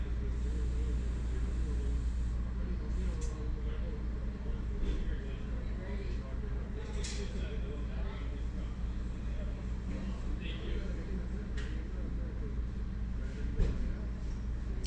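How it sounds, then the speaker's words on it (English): Highway traffic passes a roadside shop near a major intersection, a constant low rumble of engines and tires, with a few brief swishes of passing vehicles and voices talking nearby. "watching the traffic drive by"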